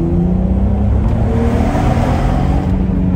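A 2004 Audi TT Quattro roadster with a 3.2 VR6 engine revs loud and close, a steady deep engine roar sustained throughout with no talking.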